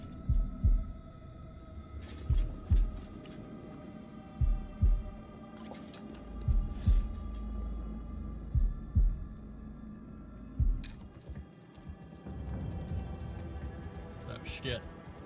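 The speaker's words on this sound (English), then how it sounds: "Press A in the time of the heartbeat." A steady thumping heartbeat from the House of Ashes video game pulses in regular double beats over a low hum, with a brief sharp sound near the end.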